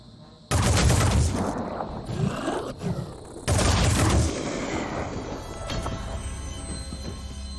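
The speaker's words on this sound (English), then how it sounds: "Preparing to fire. Target hit." Heavy bursts of gunfire in the turn-based strategy game Phoenix Point, two loud sustained volleys, each about a second long, followed by rumbling and debris-like clatter trailing off.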